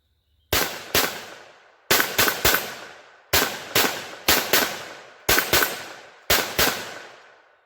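A Kel-Tec P17 pistol fires CCI Stinger rounds, close sharp cracks in quick pairs and triplets with brief pauses between strings, about sixteen shots in all, each with a short ringing tail.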